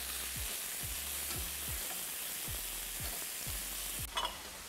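Chorizo sausage frying in a pan for chicken paella, a quiet even sizzle with a regular series of low thumps underneath and a brief louder clatter near the end.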